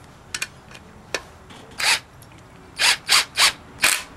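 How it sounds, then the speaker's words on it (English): A Snap-on power gun compressing a valve spring on a 4G63 cylinder head during disassembly, a few faint clicks followed by a series of short loud whirring bursts in quick succession, close and alone. "Instead of using a ratchet, using the snap-on gun."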